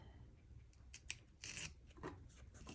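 Close scissors trim paper for a planner in a few quick, crisp snips amid light paper rustle, faint and with no one speaking.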